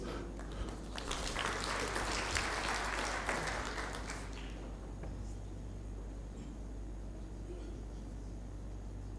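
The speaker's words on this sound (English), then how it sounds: "Please, a round of applause" Applause from the audience at a general assembly of public service commissions, a lively round of clapping that stops abruptly halfway, leaving a low hum of room noise.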